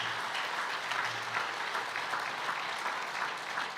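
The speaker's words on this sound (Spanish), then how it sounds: "Demos un aplauso al Cristo crucificado, pero que ahora es glorificado" Church congregation clapping in praise during a worship service, a fairly even wash of hand claps at moderate volume with no talking on top.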